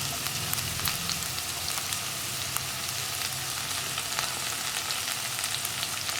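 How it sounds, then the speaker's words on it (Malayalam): Thinly sliced onions fry in hot oil for a Kerala parippu and potato curry, giving a steady, close, dense sizzle with faint crackles and no voices. "ഇതൊന്ന് ചൂടായി തുടങ്ങുമ്പോൾ ഇതിലേക്ക് നമുക്ക് നീളത്തിൽ കട്ട് ചെയ്ത് വെച്ചിരിക്കുന്ന സവോള ചേർക്കാം"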